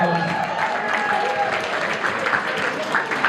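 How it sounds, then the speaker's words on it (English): A crowd applauds steadily at a documentary film screening, a continuous close wash of clapping lasting a few seconds with some voices mixed in. "Give her another round of applause."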